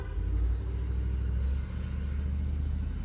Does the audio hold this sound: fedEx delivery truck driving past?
yes